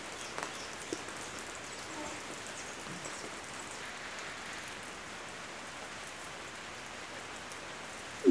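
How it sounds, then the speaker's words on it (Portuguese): Steady rain falls on a rural farm, a soft continuous patter on surfaces with faint scattered drops, heard alone at moderate distance before a brief knock at the very end. "Bastante chuvinha."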